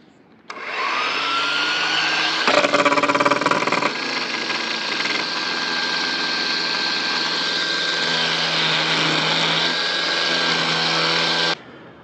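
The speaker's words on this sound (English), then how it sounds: "I just got done string trimming a few hundred feet of the yard." A string trimmer runs at a steady, loud, close whine for over ten seconds, with a brief surge in pitch and roughness near the start before settling back to an even drone until it cuts off.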